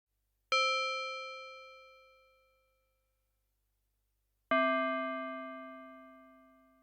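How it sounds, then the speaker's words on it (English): Two struck FM-synthesized bell tones from operators 1 and 2 of a Yamaha DX7, each ringing out bright and metallic and decaying slowly, the second pitched lower than the first. "They generate a bell sound."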